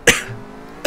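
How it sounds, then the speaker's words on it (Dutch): A single loud, close cough, then a quiet pause and the start of a second cough burst at the end. "Want ik moet nu even hoesten en dat is misschien even wel hard geluid."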